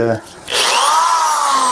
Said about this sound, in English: yeah, runs the hammer drill just fine.